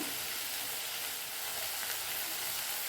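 Steady, dense sizzling of tomatoes with salt and turmeric sautéing in a hot pan for tomato rice, a continuous close crackle with no talking.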